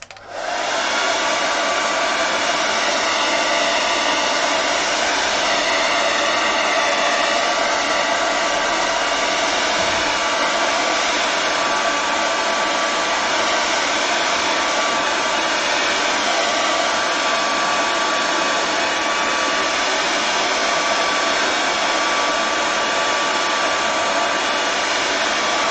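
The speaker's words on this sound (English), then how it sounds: "I'm going to give this a quick blast with the hairdryer because it's still wet" A hairdryer blows steadily on a wet watercolour painting, a loud close whooshing roar that starts abruptly and holds nearly constant for about twenty-five seconds with no talk.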